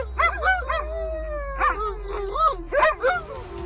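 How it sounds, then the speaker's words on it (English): A sled dog barking and howling, with several loud, close yips and whining howls in uneven bursts that rise and fall in pitch, with no people talking. "They don't bark much, but they are loud when they do, and enjoy howling to stretch their vocal cords."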